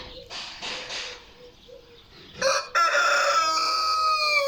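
A rooster in a village crows loudly and close, a long strained call that holds for a couple of seconds after some quieter bird chatter.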